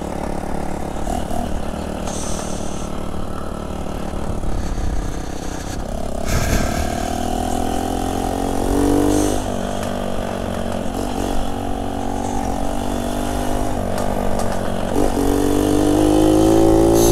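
A four-stroke motorized bicycle engine runs steadily and loudly at close range, a buzzing drone whose pitch rises and falls as the throttle changes, with no talk over it.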